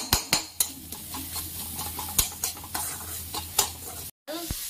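Cabbage and potato are stirred in a frying pan, sharp clacking spoon strokes against the pan over a steady sizzle, a few strong knocks at the start, then lighter scraping with a short gap near the end.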